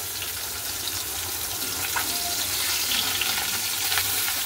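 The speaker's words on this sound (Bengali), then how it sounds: "মাছ তো কড়াইতে দিয়ে দিয়েছি, যা ফোটা ফুটছে ভয়ের ঠেলায় পালাতে হয়" Fish fries in hot oil in a wok, producing a steady, dense sizzling hiss with intermittent spattering pops throughout and no talking.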